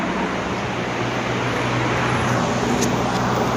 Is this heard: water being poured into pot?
no